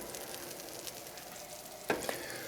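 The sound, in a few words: butter melting and sizzling in a pan over high heat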